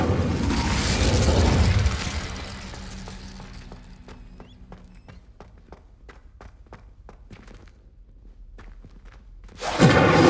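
A fire spell from the video game Hogwarts Legacy: a loud rushing, roaring burst of flame for about two seconds, fading into scattered clicks and soft thuds, then a sharp new whoosh at the very end.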